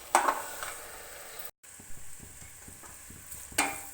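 Carrot and khoa halwa roasting in a pan, a soft sizzle under repeated scraping stirs of a spoon against the pan, with a brief break in the middle, close and fairly quiet with no talking.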